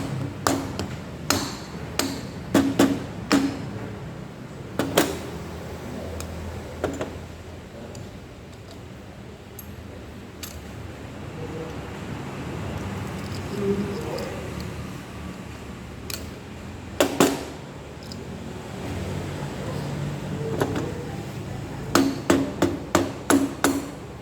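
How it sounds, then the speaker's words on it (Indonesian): Plastic mallet tapping the cylinder head of a Honda Supra X 125 engine during an overhaul, sharp repeated knocks in clustered bursts at the start and end, with quieter workshop noise in between. "Oke, boleh kita gunakan palu plastik."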